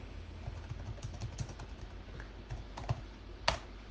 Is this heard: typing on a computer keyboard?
yes